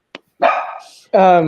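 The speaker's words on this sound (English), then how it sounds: "Yeah, that's my dog." A pet dog barks close by, one tiny yip followed by two loud, full barks with a short pause between them.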